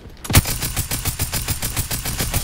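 Rapid automatic gunfire in Fortnite, a steady burst of about fifteen loud, evenly spaced shots following one heavier opening blast.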